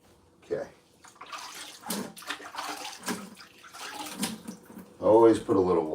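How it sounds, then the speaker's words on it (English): Water runs and splashes steadily into a drywall mixing bucket, fairly close, while someone talks over it. "Always put a little water in that mixing bucket."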